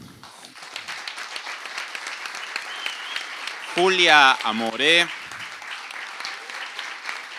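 Audience applause for guests at an activist school event, a continuous crowd of clapping hands under a presenter's voice calling out names briefly in the middle.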